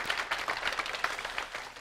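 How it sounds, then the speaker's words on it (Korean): A church congregation clapping for the choir during a Sunday service, a brief, dense burst of many hands applauding together at a steady level. "우리 모든 찬양대원들은 박수 한번 우리 격려 박수 한번 올려드리겠습니다"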